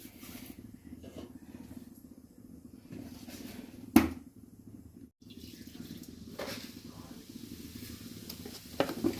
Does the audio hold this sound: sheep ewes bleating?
no